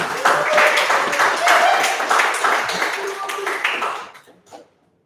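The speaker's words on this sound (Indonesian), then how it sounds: "Tepuk tangan." An audience applauds a guest introduced at a tax-themed talk show, sustained clapping with music and voices underneath for about four seconds before it quickly fades to silence.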